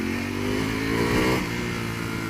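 A 2018 Ducati V4S superbike engine roars at full throttle, a loud, sustained high-revving howl that swells in pitch and volume near the middle before holding steady, close by with no talk.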